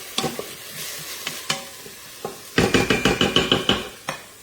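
Vegetables stirred in a pressure cooker pot, a spoon scraping and clacking against the metal in scattered strokes, then a quick run of rhythmic scrapes over a soft sizzle.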